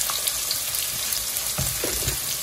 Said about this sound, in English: so after frying the onion, you don't want to wait for it to become brown before you start putting your puree